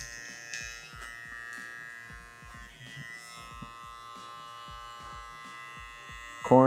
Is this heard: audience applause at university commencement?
no